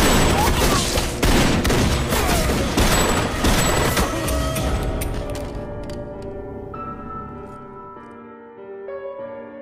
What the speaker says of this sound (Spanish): Todos dispararon a Chandler y sus dos amigos a modo de ejecución